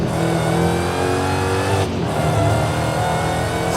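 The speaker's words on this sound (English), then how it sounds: "Hellcats are known for their crazy whining superchargers, and it is the same story with the Dodge Challenger Demon" A Dodge Challenger Demon with a supercharged engine revs hard in the Forza Horizon 5 racing game, a loud, continuous roar with a brief dip in the middle before climbing again.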